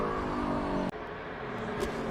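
A NASCAR race car roars past on a qualifying lap, a loud sustained engine drone with a brief dip in the middle and a short burst near the end.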